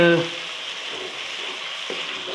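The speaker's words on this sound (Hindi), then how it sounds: "अब इसमें डालूँगी टमाटर और लहसुन अदरक का पेस्ट।" Tomato and ginger-garlic paste fry with onions in hot oil, a steady close sizzle that follows a brief clatter at the start, with a small stir-like bump near the end.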